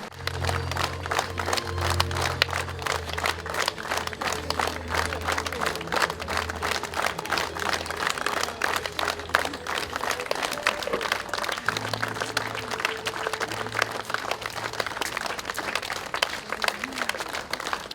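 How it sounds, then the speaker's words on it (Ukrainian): Sustained applause from a large crowd at a funeral farewell in Kryvyi Rih, steady and dense throughout, with low background tones running underneath and no one speaking. "омадянина Кривого Рогу Олександра Більського провели в останню путь прощальними оплесками."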